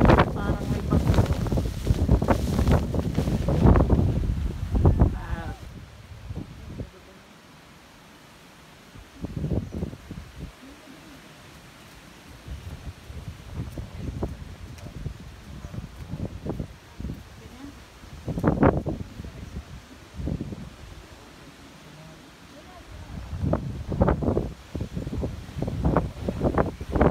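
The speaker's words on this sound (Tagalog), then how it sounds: "So kita-kita yung ulan, ang hangin at saka yung ulan." Wind and rain outdoors at Kinabuhayan, Dolores, Quezon: a steady broadband rush that swells and fades under frequent close talking, with quieter stretches between the voices.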